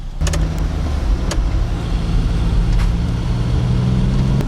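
A Chinese quad bike setting off, its engine a loud, steady, close drone with a low hum throughout and some faint clicks, and nobody speaking.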